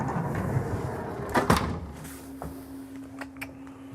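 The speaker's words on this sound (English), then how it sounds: "A privacy door." A privacy door inside a 2025 Renegade Classic 45CMR Super C motorhome is worked open or shut, giving a couple of close, sharp knocks and rattles, then a steady low hum in the quiet cabin.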